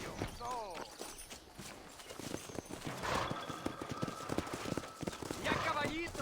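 Horse hooves clip-clop at a walking pace in a Red Dead Redemption game scene, steady and fairly close, mixed with speech and a brief horse whinny.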